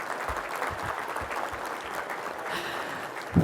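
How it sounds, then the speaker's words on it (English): Audience at an induction ceremony applauding, a steady wash of many hands clapping in a hall, sustained and even throughout. "We all clap now because we're excited for them."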